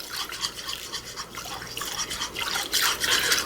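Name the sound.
whisking pineapple juice for lemon pepper wing sauce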